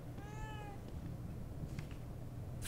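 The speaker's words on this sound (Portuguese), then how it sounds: "Um gato. Eu não me lembro de ter um gato." A cat meows several times in the horror video game The Evil Within 2, a short harmonic cry near the start followed by fainter mews over a steady low ambient hum, with no talking.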